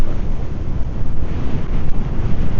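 Strong gusty wind buffets an outdoor microphone in a steady, rumbling roar that surges and dips throughout, loud and close, with no other clear sounds.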